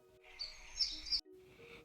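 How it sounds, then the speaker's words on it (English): Birds chirping in a yard, a bright high twittering call that rises and falls over about a second, followed by softer shorter chirps, fairly near and with no talk. "Some birds began chirping loudly and fluttering around her head."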